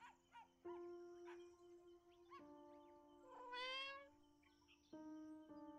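A cat in the video game Copycat gives several faint, tonal meows and mews, each drawn out, some sliding in pitch, separated by short quiet gaps with no talking.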